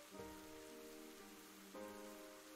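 Steady rain pours in the fantasy action game Ender Lilies, a dense continuous patter holding at an even level throughout with no voices.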